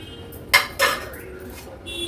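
Crispy fried bitter gourd slices served onto a serving plate, heard as two sharp, close clinks of a utensil against the dish in quick succession, followed by quiet room tone.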